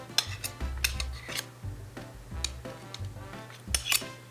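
Metal spoon scraping and clinking against another spoon while shaping a quenelle in a kitchen, a steady series of close, light scrapes and small taps with a low background hum.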